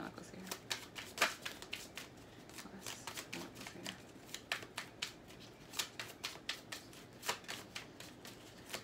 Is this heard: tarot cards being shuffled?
yes